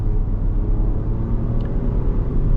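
A 2025 Nissan Rogue Rock Creek SUV with a CVT accelerating slowly in eco mode, heard from inside as a steady low engine and road rumble, even and moderately loud, with no talk.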